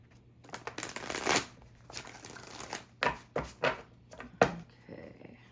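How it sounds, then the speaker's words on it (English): Tarot cards being shuffled by hand, a series of papery riffling bursts separated by short pauses, close and crisp over a faint steady hum. "let's go ahead and shuffle the cards"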